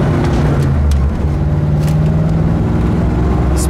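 Steady engine drone and road roar from inside a 1953 Ford Convertible moving at about 60 mph on a highway, constant and loud with no voices.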